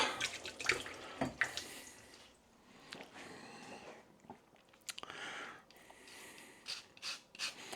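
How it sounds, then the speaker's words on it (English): Sweetcorn rinsed under a running kitchen tap, water splashing and trickling steadily with irregular spatters and small handling knocks throughout, close and fairly quiet, no talk. "Let me give that a little rinse."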